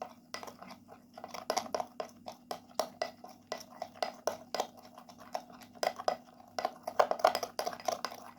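A spoon clinking and scraping in a small bowl while mixing a coffee body pack with a pinch of turmeric powder, with irregular close taps and scrapes over a faint low hum.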